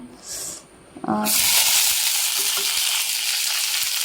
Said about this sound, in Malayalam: വെളിച്ചെണ്ണ ചൂടായി എണ്ണ തിളച്ച് അതിലേക്ക് ഒരു സ്പൂൺ കടുക് ഇട്ട് പൊട്ടി